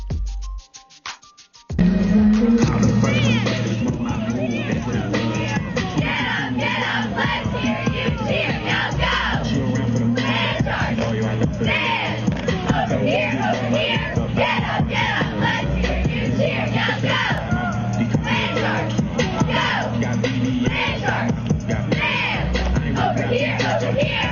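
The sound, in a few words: cheerleaders' cheer at high school football game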